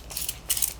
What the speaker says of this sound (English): So I have a spray bottle of water here.